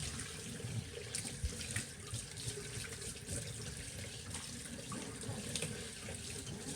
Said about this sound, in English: So we just want to make sure that soapy water is down that drain. One more rinse.